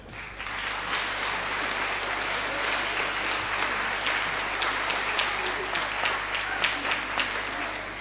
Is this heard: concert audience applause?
yes